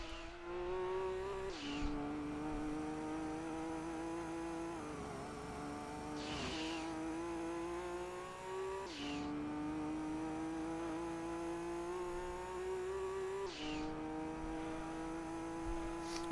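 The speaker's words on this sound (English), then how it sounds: "enjoy the sounds of this soothing Skyline engine" A Nissan Skyline engine in Gran Turismo 2 drones and climbs in pitch, then drops sharply at each gear change, repeating several times at a steady, moderate volume.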